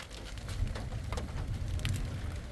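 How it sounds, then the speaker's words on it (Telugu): Steady rain falls in a soft, continuous patter with scattered drops, fairly quiet and even throughout, with no voices. "వర్షం పడుతుంది"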